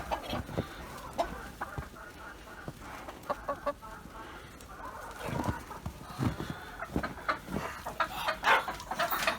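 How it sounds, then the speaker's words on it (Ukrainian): Chickens cluck and murmur close by in scattered bursts, with occasional louder squawks over soft rustling. "Бо тут і кури вже позаходили в нас"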